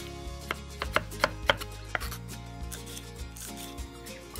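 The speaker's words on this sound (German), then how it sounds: "Und das ganze Gemüse wird jetzt ganz fein geschnitten." Celery, carrots, onion and garlic are finely chopped with a knife on a board, giving a steady run of quick, close knocks and thuds over a low background hum, with no talking.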